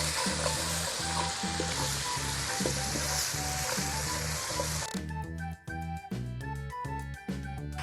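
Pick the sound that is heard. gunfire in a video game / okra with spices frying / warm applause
okra with spices frying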